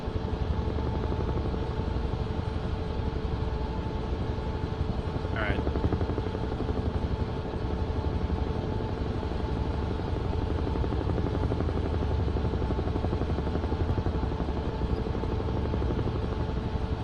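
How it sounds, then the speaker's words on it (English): A helicopter's engine and rotor drone steadily in Microsoft Flight Simulator, a constant loud whine and thrum that carries on unbroken throughout, with one brief chirp partway through. "So take some collective out here, right? Level off the helo."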